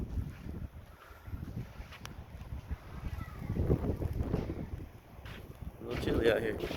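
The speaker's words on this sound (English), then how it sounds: "Oh, it's blowing hard." Strong gusting wind buffets the microphone outdoors during a snowstorm on the Mississippi Gulf Coast, rising and falling in loud rushing bursts, with a voice in the background.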